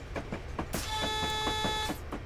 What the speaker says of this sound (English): That very disturbingly loud alarm